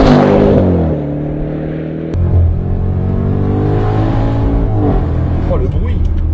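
A Range Rover Velar engine pulls hard under acceleration, a loud, steady low drone that rises and holds close by while someone talks over it.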